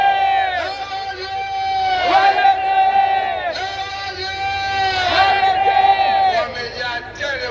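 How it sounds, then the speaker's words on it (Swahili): A packed stadium crowd at a political rally in Pemba roars and chants loudly and continuously, with rising waves of shouting and whooping voices. "Wamejaa tele uwanjani"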